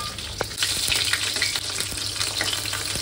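Paneer fries in a pan with a constant close sizzle and scattered crackles and spits, brief and unbroken, with no voices.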